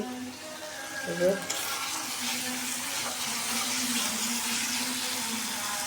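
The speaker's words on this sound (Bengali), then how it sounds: "আমি মশলাটা কষাই দিয়ে দিচ্ছি" Ginger, garlic and cumin spice paste fries in a pan, giving a steady, even sizzle that fills the background after a brief clatter near the start.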